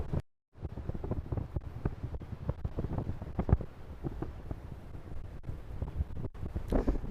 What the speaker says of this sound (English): It's as windy as anything.